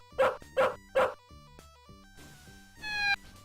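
Three loud, evenly spaced synthesized dog barks from the Space Quest IV video game, followed by quieter electronic blips and a rising chirp of retro game sound effects.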